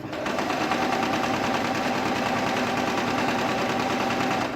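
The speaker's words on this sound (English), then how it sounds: "That's me locking my stitch, and I'm done." A sewing machine runs continuously while locking a stitch on a ladies' shirt dress, a loud, even, rapid needle rattle that holds steady before stopping abruptly.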